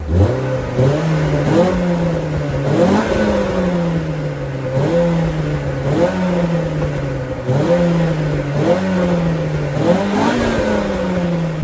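A Renault Clio RS engine revs repeatedly through a loud exhaust, each rise in pitch dropping back before climbing again in a steady rhythm.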